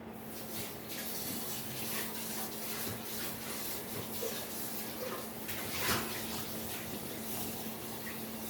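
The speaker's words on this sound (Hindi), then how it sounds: "कुकर धो लेते हैं" A pressure cooker being rinsed under a running kitchen tap, a steady faint rush of water with soft rubbing and clinking of the metal pot, alone with no talk.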